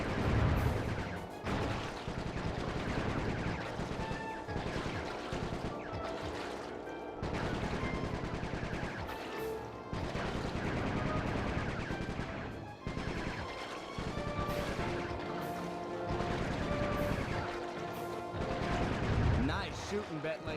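Gunfire rings out in Sly 3: Honor Among Thieves, steady bursts of shots running through a dense, loud game soundtrack of music and effects for the whole stretch.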